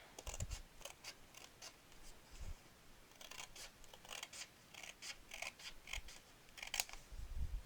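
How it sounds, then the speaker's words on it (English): Paper or cardstock for a folded card project being cut with scissors: a series of crisp, close snips in irregular bursts, fairly quiet, with no talk. "I'm going to turn it this way so I can cut it. Cut here, and then cut across."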